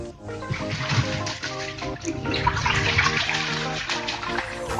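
Water splashing and pouring as a Muscovy duck bathes in a deep container at a duck pen, a continuous, fairly loud wash of water with faint background voice.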